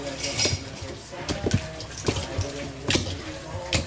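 Two thick steaks sizzle in butter in a pan, a steady hiss broken by scrapes and clinks of cookware, with someone talking over the cooking.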